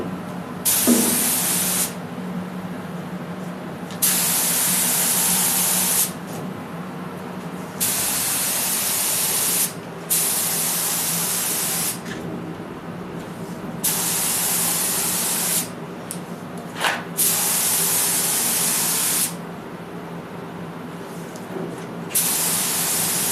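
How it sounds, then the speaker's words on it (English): A spray gun lays down a top coat in repeated long, loud bursts of hiss, each lasting a few seconds and separated by short pauses as the gun sweeps side to side. The sound is near and has no talk over it. "keep the gun moving so we're not staying in one spot and getting any puddling"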